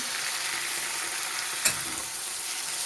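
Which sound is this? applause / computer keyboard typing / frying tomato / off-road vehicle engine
frying tomato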